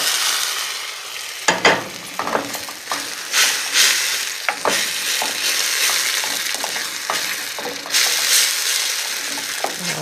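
Sauce in a pan is stirred as a little pasta cooking water is added, giving a steady sizzle with scraping utensil strokes and clinks close by and no talking.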